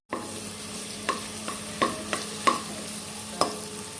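Curry leaves, green chilli, ginger and garlic fry in a pan for curry, giving a steady loud sizzle broken by a few sharp stirring scrapes, with no voices.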